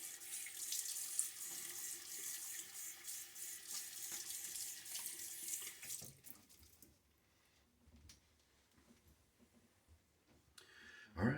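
Razor rinsed under a running bathroom tap, a steady hissing stream of water for several seconds, then quieter dripping and handling before a brief splash at the end.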